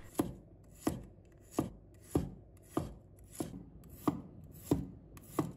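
A knife chops garlic into slices on a cutting board in about nine evenly spaced, crisp knocks, close and isolated with no talk.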